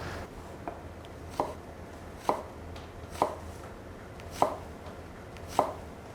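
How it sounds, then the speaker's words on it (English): A knife cuts an apple into thin julienne strips on a board, giving five or six crisp, evenly spaced chops close by with quiet pauses between them. "An apple is an easy thing to julienne. It's already the right size and easy to cut."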